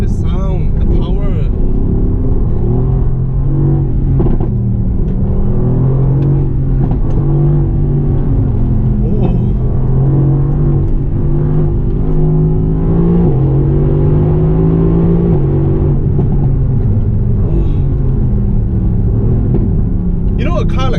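A Mercedes-AMG GTC engine pulls hard under acceleration, a loud, sustained deep growl with rising and falling pitch heard from inside the car. It continues for about twenty seconds, with a voice talking over it.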